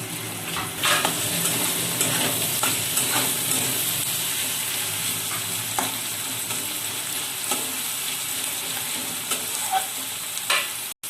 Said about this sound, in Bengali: পেঁয়াজটা ভালোভাবে লাল করে ভেজে নেব